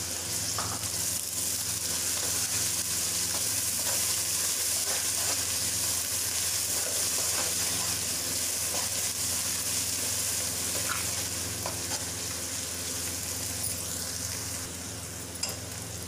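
Garlic-ginger paste frying with lightly browned onions in a pan for a potato curry, a steady close sizzle and crackle running the whole time, with a few faint stirring scrapes and no talk.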